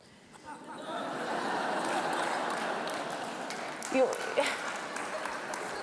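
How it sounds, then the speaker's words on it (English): An audience listening to a speech breaks into warm applause that swells and then holds steady, with chuckles and scattered laughter rippling through the clapping. "I didn't expect to get claps for that, but I'll take it"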